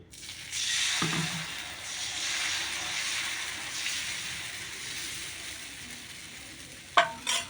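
Yam dosa batter sizzles on a hot dosa griddle, a steady broad hiss that swells as the batter spreads, with a soft scrape early on and a couple of sharp utensil clinks near the end.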